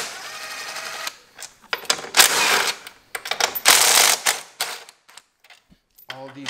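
A ratchet wrench loosens 13mm bolts on a BMW F30 340i suspension, giving bursts of sharp, close mechanical clicking and rattling separated by brief pauses.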